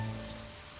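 Rain falls as a steady soft wash in the video game Deadly Premonition, a low continuous hiss of drops beneath faint background tones.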